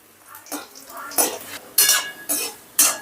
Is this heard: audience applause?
no